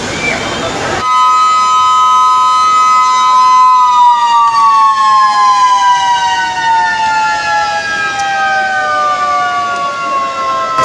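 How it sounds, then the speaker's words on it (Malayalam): A closing-time siren at Vismaya amusement park blares loud and close for about ten seconds, a continuous wailing tone that drifts slowly downward in pitch. "സൈറൻ അടിച്ചു"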